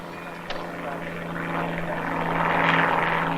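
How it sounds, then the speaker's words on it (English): A crop-sprayer plane flies over on its way to spray pesticides, its propeller engine droning steadily and growing louder as it approaches, with a faint tonal hum underneath. "That plane is on its way to unload pesticides right now. Those are the sprayer planes"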